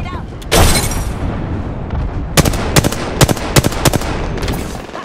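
Gunfire in the battle royale game Apex Legends: a burst of shots near the start, then several sharp separate reports spaced through the clip over a steady busy game background, with in-game voice talk mixed in.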